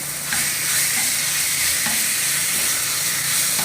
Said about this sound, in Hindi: अब मैं चिकन को हॉट प्लेट पे पकाऊंगा